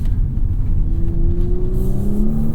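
A 2024 Audi S4 engine pulls steadily through tight corners at part throttle, a close, continuous rumbling drone with a slowly rising pitch, with no talk over it.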